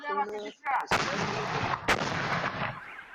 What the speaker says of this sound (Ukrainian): бойовики продовжували відстрілюватись з мінометів і гармат